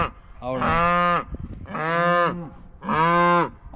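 Cattle moo in a corral, three loud drawn-out calls spaced about a second apart, each one rich and close, with quiet gaps between them and no talking.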